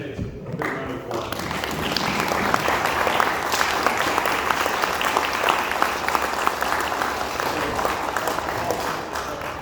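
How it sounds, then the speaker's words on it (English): Audience at a Douglas County candidates' election event breaks into applause, building quickly into dense, continuous clapping that holds for nearly ten seconds, with a few scattered voices beneath. "All of our candidates, a big round of applause."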